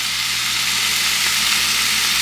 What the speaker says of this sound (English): So we're just gonna let that sizzle there for a few minutes.